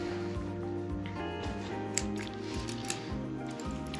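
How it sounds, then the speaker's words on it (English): Scissors snip through the packaging of an Anker charging cord, a few sharp, quiet cuts heard over a steady bed of tonal background music. "Of course, I bring scissors to be safer."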